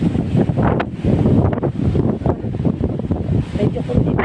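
Strong spring wind after rain in New Zealand buffets the microphone with a loud, constant rumbling roar that surges and dips for the whole stretch.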